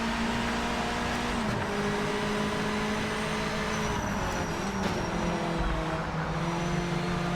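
A Mazda MX-5 engine in the racing game Project Motor Racing, held at a steady high drone around 6,000 rpm for several seconds, with the pitch dipping briefly before settling again.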